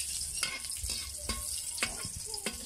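Garlic sautés in a hot pan for papaitan, a steady sizzle with stirring and scraping strokes at regular intervals, close and moderately loud, with no talking.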